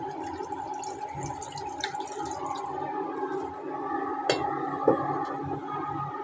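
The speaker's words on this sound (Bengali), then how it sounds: "পানি দিয়ে দিচ্ছি।" Water poured into a pan of braised chicken curry cooked without potatoes, giving a steady close splashing and bubbling wash with a couple of sharp knocks near the end.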